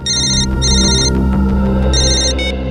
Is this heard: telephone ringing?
yes